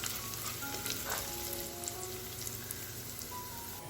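Spices and broken dried chilli pieces temper in hot oil in a pan, a dense, even sizzle and crackle close by, with a few brief pops and soft stirring, no voices.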